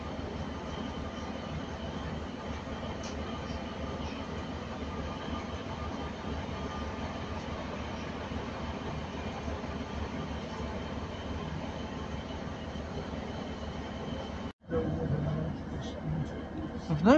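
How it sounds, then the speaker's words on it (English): A freight train rolls past on a South Wales rail line, a steady dense rumble of wagons holding close and loud throughout, with a brief cut near the end before the noise resumes. "I spy a freight train."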